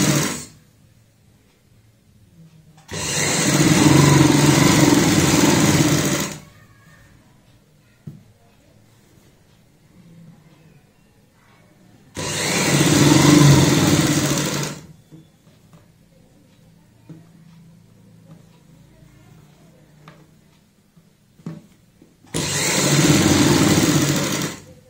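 A sewing machine stitches the neckline of a kurti in three bursts of steady, fast whirring of a few seconds each, separated by quiet pauses with faint handling sounds.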